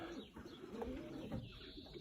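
Pet pigeons or doves in an aviary, soft low cooing calls repeating in overlapping phrases, quiet and close with faint background hum.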